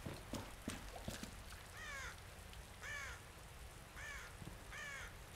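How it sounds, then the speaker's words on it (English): A crow caws in Resident Evil 2 Remake, four harsh calls spaced about a second apart over quiet ambient game noise and a few soft knocks. "Just a crow symbolizing death."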